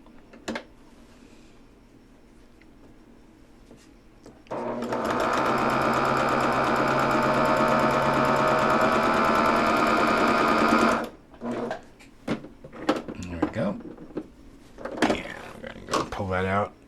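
A sewing machine chain-pieces quilt blocks, starting after a few quiet handling sounds and running in one steady, close, humming stitch burst of about six seconds, then stopping for clicks and fabric rustles.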